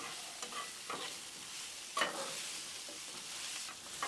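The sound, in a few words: seasoned potatoes mixed on a Blackstone griddle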